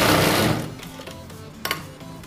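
Sewing machine stitching along folded pajama fabric: a fast whirring run that slows and stops after about half a second, followed by quieter clicks and a brief burst of motor noise.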